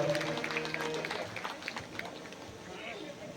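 Devotees clap at a religious ceremony, an Amrit Mahotsav for a religious leader. The applause is faint and dense and runs on steadily beneath someone speaking.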